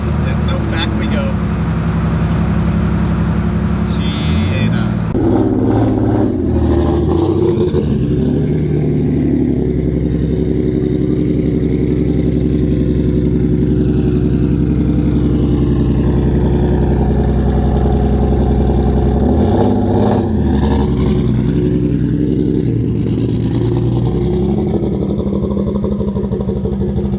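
A Subaru STI fitted with an H6 engine stumbles and bogs as throttle is applied, revving unevenly in loud rising and falling bursts over a steady idle, close and continuous.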